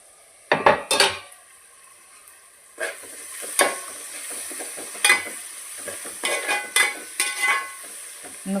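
Onions sautéing in a pan for South Indian fish curry, with a spoon stirring and scraping against the metal in bursts over a steady close sizzle.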